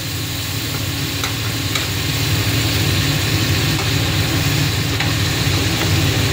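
Spice paste for a mustard-fish curry sizzles and fries steadily in a hot pan, a loud continuous crackle with faint stirring scrapes throughout.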